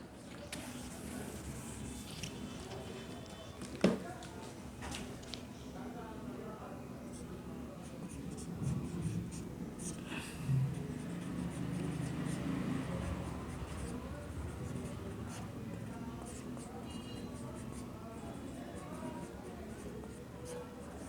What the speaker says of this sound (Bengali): আমরা এখন লিখব, তোমাদেরকে কিছু লিখে ধারণা দিচ্ছি খতিয়ানের বৈশিষ্ট্যগুলো কি কি।